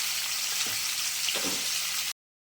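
Vegetables or shrimp sizzle softly in a pan of hot oil as a Bengali pointed gourd and prawn curry is cooked. The frying is steady, with a few faint stirring scrapes, and then it cuts off abruptly.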